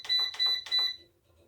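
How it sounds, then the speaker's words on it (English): Three loud, evenly spaced electronic beeps from a Cooks Essential air fryer being set to 400 degrees, each a sharp high tone, followed by near silence. "I'm so sorry about this loud beeping."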